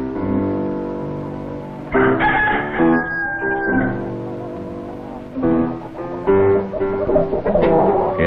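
Chickens cluck and squawk in bursts as a hen is caught, loud agitated cries rising and falling over several seconds with a rooster-like crow among them.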